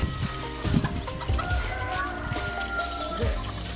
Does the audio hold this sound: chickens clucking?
yes